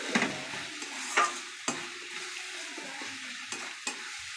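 Chicken being stirred with kasuri methi in a pan over a low gas flame, a steady sizzle and fry with repeated scraping strokes of a spoon against the pan, close and clear.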